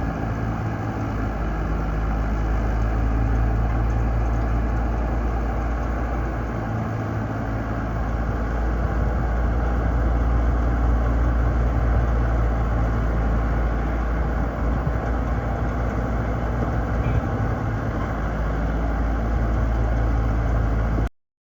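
A motorbike rides from Mirpur to Islamgarh in Azad Kashmir, giving a constant low engine drone mixed with rushing wind noise that stays loud and unbroken for the whole stretch, with no talk, before cutting off abruptly.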